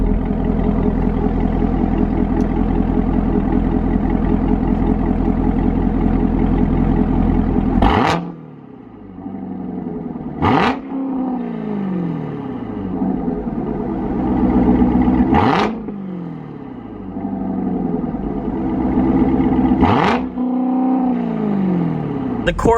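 A Chevrolet Corvette Z06 fitted with long tube headers and aftermarket exhaust idles loudly, then revs sharply four times, each blip rising and falling back to a rumbling idle.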